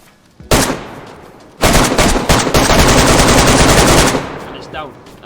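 Full-auto gunfire rips out in two long, loud bursts of rapid shots in the survival video game DayZ, aimed at a charging bear; a short opening burst gives way to a sustained stream before cutting off.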